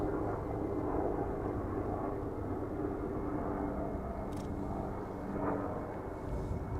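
A Boeing 747 cargo jet taxiing at Amsterdam Schiphol Airport, a steady low rumbling engine drone heard from a distance.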